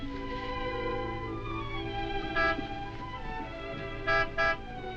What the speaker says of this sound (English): You know Martin would never honk a horn at a lady.